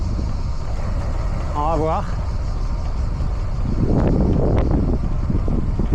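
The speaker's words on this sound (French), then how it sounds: "Il y a beaucoup de vent de côté." Strong crosswind buffets the microphone steadily while a cyclist crosses a chain bridge, a low continuous roar throughout, with a brief spoken remark and a rising gust toward the end.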